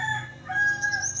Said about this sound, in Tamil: சேவல் இருக்கிறது.